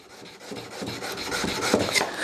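The flat back of a chisel rubs steadily on a 1000 grit diamond sharpening plate, a close, continuous rasping scrape in short back-and-forth strokes that grows a little louder, with no voices.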